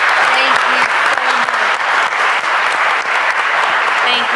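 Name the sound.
audience applause for the panel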